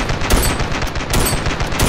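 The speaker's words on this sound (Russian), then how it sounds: "По мне уже стреляют." Rapid bursts of video-game gunfire crackle in quick succession, loud and close, a dense rattle of repeated shots over about two seconds with no talk.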